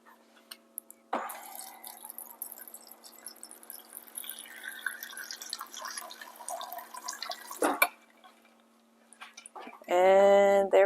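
Water pours into a pot of rose hips for a homemade tisane in a steady splashing stream that lasts several seconds, stops sharply, and is followed by a brief, louder rushing burst near the end.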